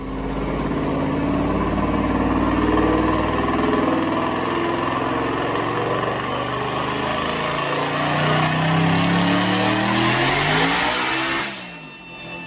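A 2021 Ford GT500 Hellion twin-turbo pulls hard on a dyno, its engine roaring loud and close as it climbs steadily through the revs before cutting off sharply at the end.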